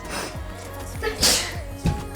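A single sharp sneeze from someone standing close by, bursting out about a second in, with a small dog nearby in a domestic setting among exposed roots.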